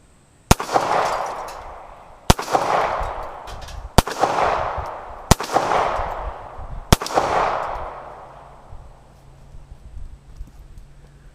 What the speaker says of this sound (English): I didn't hit any of my targets, but got through all 5 rounds, no problem.